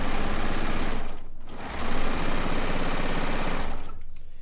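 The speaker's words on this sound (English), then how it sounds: "That's a sewing embroidery machine combo." An Elagio ESG3 sewing and embroidery combo machine runs with a steady, close mechanical whir and rapid needle rhythm, easing briefly mid-way before resuming and continuing almost to the end.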